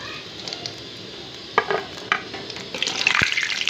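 Onion pakoras frying in hot oil, a steady soft sizzle with occasional clinks and stirring taps, bubbling growing busier toward the end.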